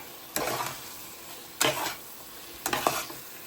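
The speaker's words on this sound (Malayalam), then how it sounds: "അതിലോട്ട് ഫ്രൈ ചെയ്ത് വെച്ച മഷ്റൂം ഇട്ട് കൊടുക്കുന്നു ഇനി ഇത് നല്ലപോലെ മിക്സ് ചെയ്ത് കൊടുക്കുക" Fried mushrooms being stirred into a chilli mushroom gravy in a pan: a soft sizzle underneath, broken by three short scraping bursts of a spoon moving through the pan.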